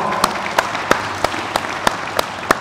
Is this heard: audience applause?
yes